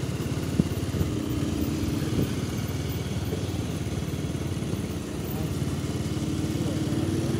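A motorcycle carrying a goat won as a prize at a one-day football tournament, its engine running in a steady, rumbling drone throughout, with people talking over it.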